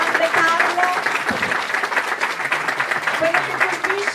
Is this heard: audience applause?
yes